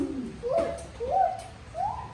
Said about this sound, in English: This is a Eurasian eagle owl.